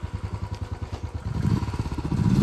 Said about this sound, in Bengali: এখানে এতটা পাথর না, সে কারণে স্কিড খাচ্ছে বাইক